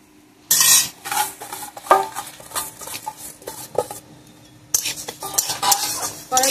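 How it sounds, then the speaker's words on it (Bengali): Dry lentils, for murighanto dal, being fried and stirred in a very hot wok give close, busy scraping and rattling as the spoon drags through them, with a short pause mid-way before the stirring resumes. "ডালটা আগে আমি ভেজে নিচ্ছি"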